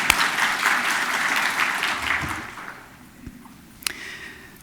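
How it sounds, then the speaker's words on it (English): A conference audience at an annual linguistics society meeting claps for its president, the applause fairly loud at first and thinning out as it fades, leaving a few scattered claps and small noises near the end. "please let's have a round of applause for our LSA president"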